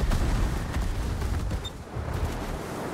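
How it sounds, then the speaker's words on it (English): Naval guns unleash rapid burst fire in a warship battle video game, a dense fusillade of booming reports that rolls on loudly for a few seconds and briefly dips before resuming. "There's the burst fire."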